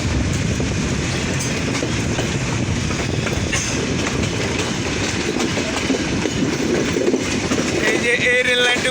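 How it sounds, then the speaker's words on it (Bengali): Chilahati Express intercity train pulling into Parbatipur Junction, a steady loud rumble with rhythmic wheel clatter on the rails and brief squeals, heard from close by with faint voices in the background. "দেখতে দেখতে কিন্তু মুড়ি শহর পার্বতীপুর জংশনে ইন করলাম।"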